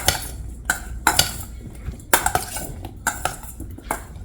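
Seasoned vegetables being tossed in a dish with garlic, salt and black pepper: irregular clinks and scraping knocks of a utensil against the bowl, close and fairly loud, no talking.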